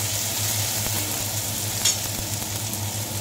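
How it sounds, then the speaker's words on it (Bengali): Dalia with a few green chillies is stirred in a pan over lowered heat, with a continuous soft sizzle and gentle scraping from the spoon, close up and without talk. "এবার আঁচটা একটু কমিয়ে দিয়ে নেড়ে নিচ্ছি।"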